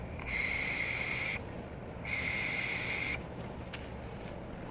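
Two vaping hits on a Reload RTA tank running a 0.45-ohm build at 41.5 watts, each a steady, hissy, airy draw of about a second, close and fairly quiet, separated by a pause with faint background noise.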